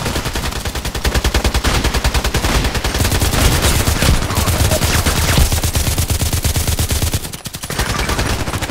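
A long, continuous automatic-weapon burst fires in the Contract Wars video game, a rapid, unbroken rattle of loud shots with a brief dip before the firing picks up again.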